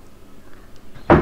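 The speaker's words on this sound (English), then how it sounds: "did you hear that noise? That was my cat jumping around on her scratching pole." A cat jumping around on a scratching pole makes a single short, fairly loud thump-and-rustle near the end, after a quiet stretch of faint room noise.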